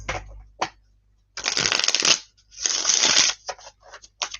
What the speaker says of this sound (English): A little bit of shuffling ASMR.